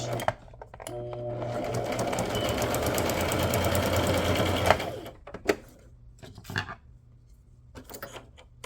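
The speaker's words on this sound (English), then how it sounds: "So I'm going to sew this first, sew my flag onto my paper clip" A sewing machine runs a straight stitch, sewing a fabric flag onto a paper clip, a loud, continuous rapid whir for about four seconds, then stops, followed by a few scattered handling clicks and knocks.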